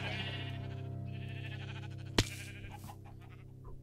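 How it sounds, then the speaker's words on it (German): Sheep in Minecraft with the Industrial Craft 2 mod bleat repeatedly, several overlapping cries at close range, with a sharp click near the middle. "Schafe, Schafe, Schafe, Schafe, Schafe, Schafe, Schafe, ganz, ganz viele Schafe"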